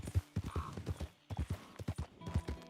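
Horse hooves clip-clop in the video game Red Dead Redemption 2, a quiet, steady walking rhythm of hoof beats close by that breaks off briefly and then resumes, with no talk.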